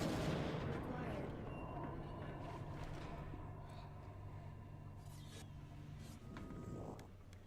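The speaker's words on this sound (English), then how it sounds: "waiting for the explosions to finish." Booming explosions in the game TimeShift rumble continuously at a moderate distance, with a steady low drone and scattered sharp blasts fading toward the end.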